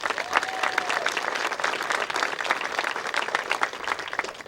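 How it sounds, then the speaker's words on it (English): Applause from an outdoor crowd at a State Route 840 ribbon-cutting ceremony, steady and moderately distant clapping throughout, with a brief voice heard early on. "Let's give them all a round of applause."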